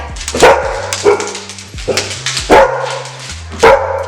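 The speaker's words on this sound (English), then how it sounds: "He's our 2-year-old Belgian Malinois" A two-year-old male Belgian Malinois barks sharply up close, loosing about five loud barks at uneven intervals with brief pauses between them and no voices.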